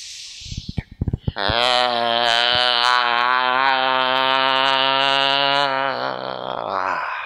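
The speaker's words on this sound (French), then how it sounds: "puis on expire et on bâille" A long, sustained voiced yawn, a steady strained tone held for several seconds after a few short breathy sounds, close and loud, fading at the end.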